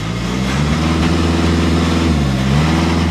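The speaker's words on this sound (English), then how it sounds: "It sounds like a diesel." Volkswagen Golf TDI diesel engine running close up at idle, a loud steady low drone with a slight rise in pitch midway before settling back.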